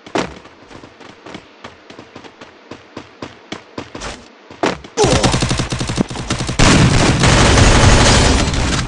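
Gunfire in Garena Free Fire: a rapid string of sharp single shots in steady rhythm, then a sudden switch to a loud, continuous burst of heavy automatic fire that keeps building to the end.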